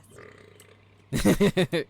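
A loud burp after drinking soda in a city-building game comes as a series of five rapid guttural pulses right up close, following a faint quiet stretch.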